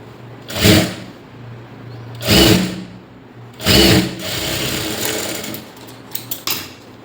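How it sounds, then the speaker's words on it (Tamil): A sewing machine stitches a blouse lining in three distinct bursts of whirring, each a second or two long, separated by pauses, with a longer softer run of mechanical noise and a few small clicks near the end. "திரும்பவும் இன்னொரு தையல் கொடுத்துக்கலாம்"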